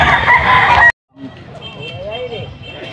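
A Boston breed rooster at a fowl market in Angeles City, Pampanga, crows loudly and close for under a second, then stops; after a short silence, softer bird calls and background chatter follow.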